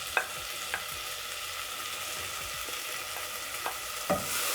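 Garlic and tomatoes fry in a pot with a low, constant sizzle. A few light stirring clicks and scrapes come every second or so, fairly quiet, with no talking.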